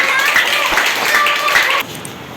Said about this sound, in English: Clapping for her.